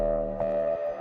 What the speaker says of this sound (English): I'm basically just washing it out, reverb followed by OTT.